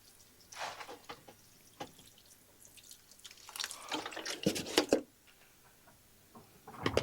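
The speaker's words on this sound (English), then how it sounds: "I'll just give these a water" Water trickles and drips onto soil in seed pots in short splashy bursts, close by and fairly quiet, with pauses between pours.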